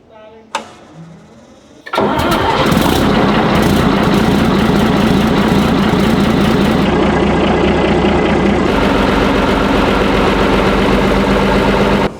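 A Chieftain tank's L60 engine cranks briefly, then catches and settles into a loud, steady idle with a dense rumbling throb that carries on without pause to the end.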